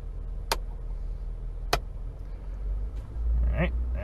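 A 2017–2019 Ford Super Duty truck idles with a low rumble. After two sharp clicks, the engine note swells and climbs toward a higher idle at the end.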